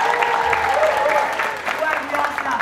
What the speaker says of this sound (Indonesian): Tepuk tangan untuk TPRI.